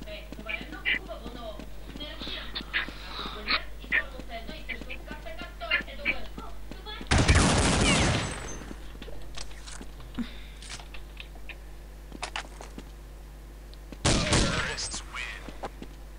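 Automatic sniper rifle fire in Counter-Strike, with bots on the map: two loud bursts of gunshots a few seconds apart, set against ongoing game noise and a voice talking throughout.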